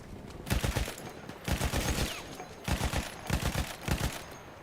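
Bursts of machine gun fire from a Battlefield 1 battle, several rapid rattling volleys separated by short pauses, loud and close with no talking.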